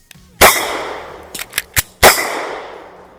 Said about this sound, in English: It's the first day I've been out here shooting this pistol